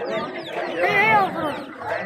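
Chickens and a rooster at a Friday bird market in Aziziyah, clucking and crowing close by in a lively crowd, with vendors talking and haggling over prices throughout.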